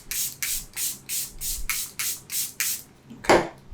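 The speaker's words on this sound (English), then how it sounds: "I gave us a good spray." Setting spray misted onto the face in a quick run of about nine short, evenly spaced hissing pumps, close and crisp, followed by one final heavier spritz.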